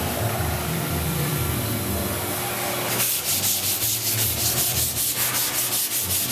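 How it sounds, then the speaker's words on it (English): Rhythmic back-and-forth scrubbing of wet 220-grit sandpaper on a surface, close and steady, following a stretch of softer hissing. "we will now use a wet sand, and we're going to use 220 grit sandpaper"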